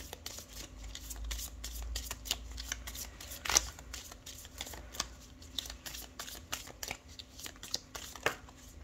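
Tarot cards being shuffled for a reading, a close, quiet run of crisp riffling and shuffling with irregular card snaps and one sharper slap partway through.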